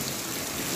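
Rain falling in a village, a steady, even hiss of drops on surfaces filling the whole brief moment, with no voices.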